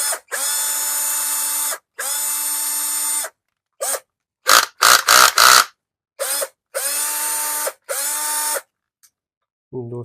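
A Black & Decker SL13YD cordless drill running on a rebuilt lithium-ion battery pack, whirring loudly in repeated bursts of a second or two with brief trigger blips between them, close up and with no talk.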